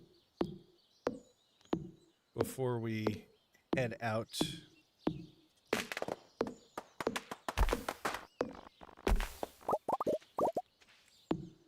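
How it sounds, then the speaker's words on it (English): An axe chops down trees in the video game Stardew Valley, a rhythmic series of sharp knocks and thuds mixed with game effects and cracking sounds, while someone talks briefly over them. "let's go ahead and knock down some trees here"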